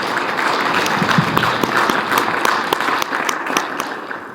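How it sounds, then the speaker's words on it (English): A room at a Pride San Antonio general membership meeting claps for a new board member, sustained close applause with distinct individual claps popping out, easing slightly toward the end. "a round of applause for Sebastian, please."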